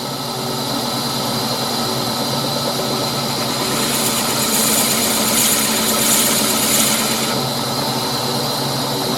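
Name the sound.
Forstner bit drilling out wood for a goblet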